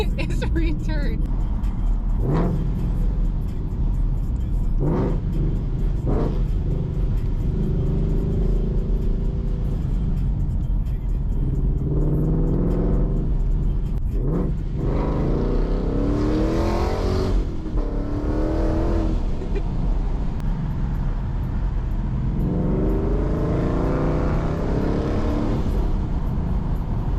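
A supercharged Ford Mustang Mach 1 drives hard, its engine rumbling loud and close from inside the car, with repeated rising revs as it accelerates and brief pauses between pulls, under occasional talk.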